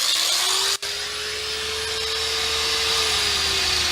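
A Makita angle grinder spins freely with no load, giving a loud, steady high whine that holds constant for several seconds after a brief dropout near the start.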